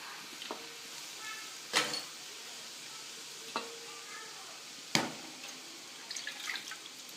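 Instant seeyam dumplings frying in hot oil, with a soft continuous sizzle broken by several sharp stirring scrapes and splashes, fairly quiet and close, with no talking.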